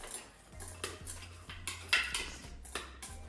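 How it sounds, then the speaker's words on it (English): Washed brown rice poured into a rice cooker pot, a string of light grainy patters and small clinks against the metal at irregular moments, close and fairly quiet with a low hum underneath. "I am adding it into the rice cooker."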